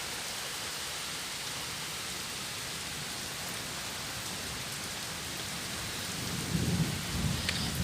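Steady, dense rain pours down throughout a summer rainstorm, and near the end a low thunder rumble swells up beneath the hiss.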